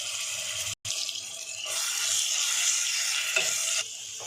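Ginger garlic paste and cumin frying in hot oil in a pan for matar methi masala, a steady close sizzle broken by a brief silent gap near the start, then continuing bright and even.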